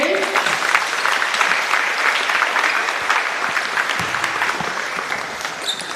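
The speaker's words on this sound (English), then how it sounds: "Let's give a round of applause to all of our seniors." Sustained, loud applause fills a gym for the seniors at a high school girls basketball game, with steady clapping from a crowd of family and friends and no break.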